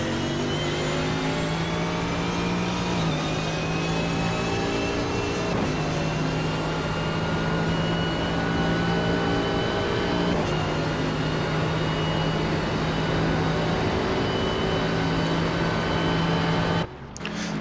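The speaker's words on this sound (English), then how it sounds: "I do like the sound of the Mercedes though. It's probably one of the nicest sounding cars out there" A Mercedes GT3 race car engine in the iRacing simulator, at Imola, screams through rising revs with sharp dips at each gear change, loud and continuous with no talk.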